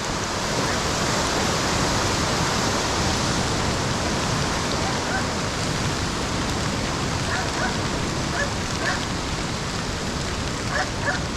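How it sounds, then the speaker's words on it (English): A flooded river rushes past as a raging torrent while rain falls, making a loud, steady roar of water that fills the whole stretch without a break. "I don't think you can fit any more water in this river. It's just raging torrent. It's also really loud."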